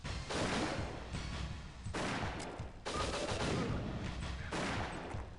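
Rapid automatic gunfire from a machine gun in the video game WinBack, loud, dense bursts that run almost continuously with brief gaps between volleys.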